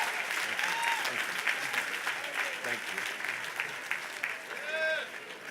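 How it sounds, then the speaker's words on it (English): A large audience at a 2019 Virginia Union University commencement breaks into sustained applause, a dense, even clatter of many hands lasting several seconds, with scattered whoops and cheering voices rising above it. "She deserves another hand clap of thanks."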